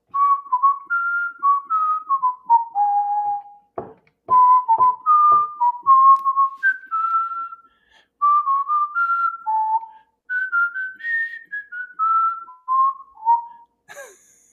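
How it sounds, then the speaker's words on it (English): A person whistles a cartoon theme tune solo, a clear melodic line of held and sliding notes in phrases with short breathing pauses, close and fairly loud, with no talking. "I'm gonna do my best to whistle."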